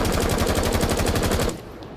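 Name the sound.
Thatcher's gun firing in video game Rainbow Six Siege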